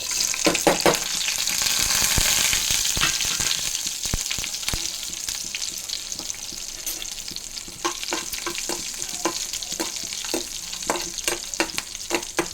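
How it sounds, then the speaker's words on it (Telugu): Garlic, dried red chillies, cumin, mustard seeds and split urad dal crackle and sizzle steadily in hot oil, with sharp popping bursts scattered throughout and occasional stirring clinks, close and fairly loud. "దాని తాలింపులు: ఎల్లుల్లిపాయ, ఎండుమిరపకాయ, జీలకర్ర, ఆవాలు, సాయమినపప్పు"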